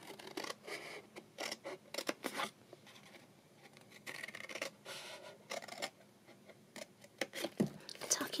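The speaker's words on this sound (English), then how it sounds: "So we're just snipping down." Scissors snipping through card for an Easter treat box, a string of short close crisp cuts with light rustling of paper between them, quiet and intimate.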